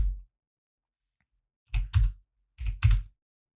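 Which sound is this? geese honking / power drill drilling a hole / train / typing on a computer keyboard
typing on a computer keyboard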